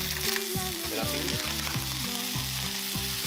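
Oil and butter sizzle steadily in a pan with garlic, a continuous close frying hiss with no pauses, mixed with faint tonal background sound.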